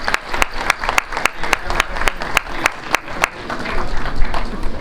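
Stadium crowd applause during a college football game salute to veterans; steady, loud, rumbling clapping with a wash of crowd noise, punctuated by regular sharp tapping sounds throughout.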